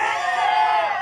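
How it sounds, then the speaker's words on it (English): Crowd at a game of BIKE, a brief burst of dense, loud cheering and excited voices, steady across the whole moment. "Listen to the crowd."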